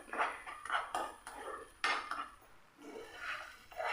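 A spoon stirring a mixture with brown sugar in a pan, giving close, repeated scraping clinks of metal on cookware in an uneven rhythm, with no talking.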